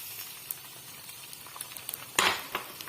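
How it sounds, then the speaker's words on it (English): Eggs frying in a pan give a faint, steady sizzle with a few light clicks and one brief louder burst near the end, with no talk. "Then we put the eggs into the pan."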